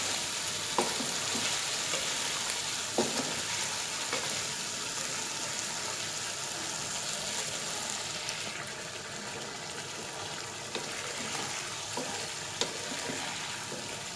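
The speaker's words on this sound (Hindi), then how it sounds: "अब आप इसका ढकना हटा के इसको तेज़ चूल्हा करके भुनाई कर लें इसकी" Chicken pieces for smoked yogurt (dhuwan dahi) chicken sizzle in oil over high heat with the lid off, a steady close frying hiss broken by occasional scraping stirs, with no talking.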